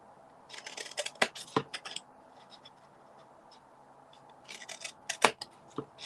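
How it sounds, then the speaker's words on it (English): Large scissors snipping through a big cardboard box, in short crisp bursts of cuts with quiet gaps between, close up, and no voice. "particularly when it's quite a big box, it's good to use the bigger scissors"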